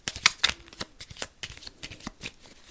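Cards being shuffled close up, a quick run of crisp riffling flutters and snaps lasting a couple of seconds.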